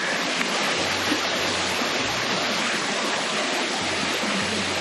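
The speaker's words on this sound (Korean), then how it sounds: "계곡 수량은 많지는 않지만 계곡물도 너무 좋고요" A mountain valley stream on the Sapaesan Wongak-sa trail in Bukhansan National Park flows steadily with a dense, continuous rush of water, close and unbroken, with no voices.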